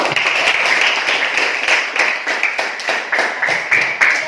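Students in a classroom clap together in a steady, fairly loud burst of applause lasting a few seconds, with no talking over it.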